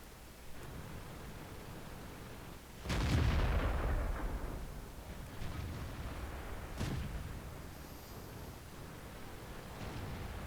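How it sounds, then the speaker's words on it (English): A T69 tank in a tank combat game fires cannon shots: one heavy boom with a long fading rumble, then softer, more distant blasts over a constant hissing background. "I wait for the T69 to shoot 4 times"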